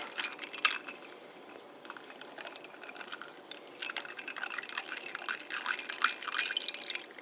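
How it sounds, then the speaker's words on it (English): Pepsi is poured from a can into a mug, giving a faint, close fizzing and trickling with crackly bubbling pops that rise and fall throughout. "you fill up this Pepsi into this mug from this can"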